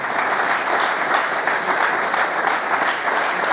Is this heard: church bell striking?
no